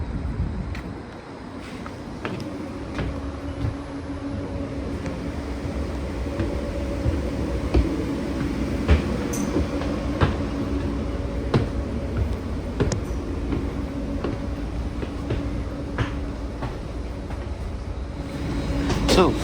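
The interior of a moving Caltrain commuter railcar gives a steady low rumble and hum, with a faint tonal drone and occasional clicks and rattles from the carriage, quiet and continuous throughout.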